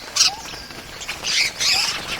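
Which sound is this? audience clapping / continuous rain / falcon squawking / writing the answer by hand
falcon squawking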